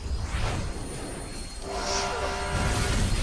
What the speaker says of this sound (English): There's a train coming behind you